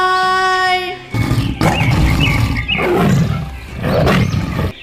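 A tiger roars in several loud, rumbling bursts that rise and fall in deep growling waves, close and dominant, after a brief tonal note at the start.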